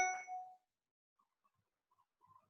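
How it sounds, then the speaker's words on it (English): A single bell clangs once during a cookery demonstration, its bright metallic ring fading quickly into near silence, followed by faint scattered background sounds. "Now I think the bell has gone"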